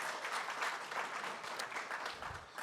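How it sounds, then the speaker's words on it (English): Audience applause at a Small Business Week summit event in Glendale, a steady dense clapping from a crowd that holds evenly throughout with no talk over it. "So let's give her a big round of applause."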